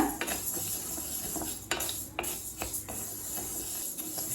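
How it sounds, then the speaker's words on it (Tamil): Moong dal dry-roasting slowly in a pan for halwa, heard as intermittent metallic scrapes and clinks of a spoon against the pan over a quiet background, with no talk. "பாசிப்பருப்பை நல்லா ஸ்லோலே வச்சு கலர் மாறாத மாதிரி வறுத்துக்கோங்க"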